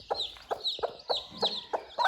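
A mother hen with newly hatched chicks gives a steady run of soft, rhythmic clucks, close by, with faint high chick peeps between them and no talking.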